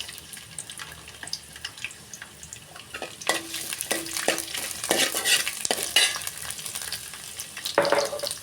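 Garlic, onion, green chillies and carrots frying in oil, with a low sizzle that builds after a few seconds, punctuated by spoon stirs and clatters and a brief splash of tap water near the end.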